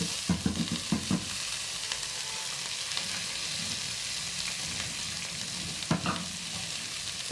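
Meal maker soy chunks fry in a pan with oil, giving a steady close sizzle with occasional sharp spatula scrapes and stirring knocks, and no talk.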